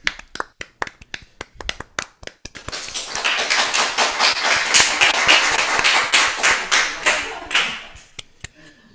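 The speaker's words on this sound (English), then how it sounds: "It's suddenly a torrent of applause when we can hear it from David's house" A few scattered claps build quickly into loud, dense applause from many hands, which then thins out again into separate claps.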